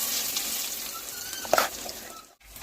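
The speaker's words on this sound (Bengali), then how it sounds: "এবার কড়াই গরম করে নিয়েছি, তেলও গরম হয়ে গেছে, দিয়ে দিচ্ছি বেটে রাখা মিশ্রণটা।" Ground green pea paste hits hot oil in a wok and sizzles in a steady hiss, close and moderately loud. There is a brief clatter midway and a short dip near the end.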